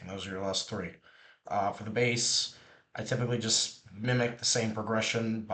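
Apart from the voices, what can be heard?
No everyday noises stand out.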